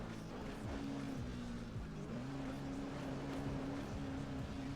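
A weak ghost truck engine in the ATV Offroad Fury 4 video game drones steadily at low pitch, its tone wavering and dipping slightly as it climbs, loud and constant with no talk.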